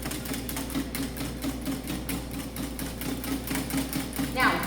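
Pastry cream is whisked in a pot, with a fast, steady rhythmic scraping and clatter of the whisk against the metal that continues without pause while a person talks.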